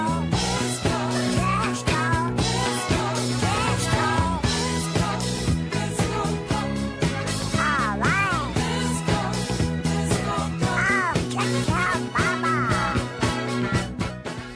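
A disco novelty song plays loud and steady as full music with a driving beat, layered instruments and warbling quack-like vocal lines throughout.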